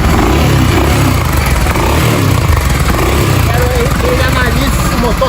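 A Yamaha Ténéré motorcycle engine runs loud and close with a rough, steady idle and mild revving throughout, while people talk over it.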